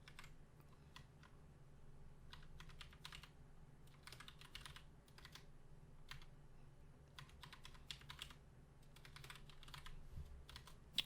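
Fast, uneven bursts of keystrokes on a computer keyboard as a new password is entered, clusters of clicks separated by short pauses over a low steady room hum, with no talking.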